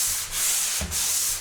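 A sanding pad is pressed hard into the grooves of a Hume door. It makes two loud, sustained rubbing strokes separated by a short pause, close and alone with no talk.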